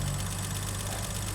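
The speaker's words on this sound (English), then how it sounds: "I'm not very happy with the way this engine's running" An engine on a BMW 3.0 CSL idles steadily, close and unbroken, with the light ticking of tappety valves that need adjusting. No one speaks.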